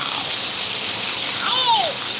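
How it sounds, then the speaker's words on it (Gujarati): Heavy rain pours down in a steady, even hiss that lasts throughout. A voice rises briefly over it near the end. "મસ્તીનો વરસાદ ચાલુ છે"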